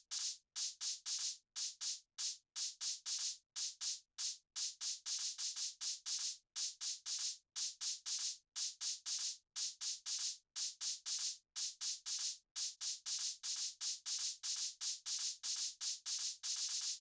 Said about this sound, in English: Now we'll fill in the shaker by adding notes before the groups as well.